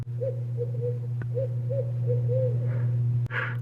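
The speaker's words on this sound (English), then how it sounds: "but there's an owl." An owl hoots repeatedly at night at a campsite in Cumberland County, Nova Scotia, soft rhythmic calls over a steady low hum, with a brief rustle near the end.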